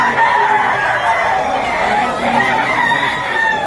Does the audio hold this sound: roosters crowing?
yes